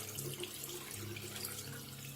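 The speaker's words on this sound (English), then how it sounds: "Now, for our soap, I turn it upside down and I run it under the water." Tap water runs steadily over an upturned bar of shaving soap held under the flow, a close, even rush of water with a soft splatter.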